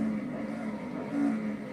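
A race car engine in the Assetto Corsa game at Spa holds a steady loud drone with a slight rise near the end, with no voices.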